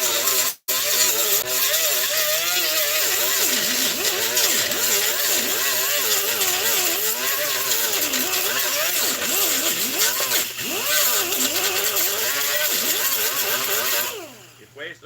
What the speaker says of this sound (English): So grinding.